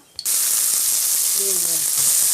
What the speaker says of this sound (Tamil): இப்போ நம்ம வந்து வெங்காயம் போட்டுக்கலாம்